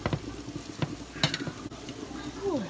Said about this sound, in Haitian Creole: Li komanse a fri, amen li komanse a pou fòm kol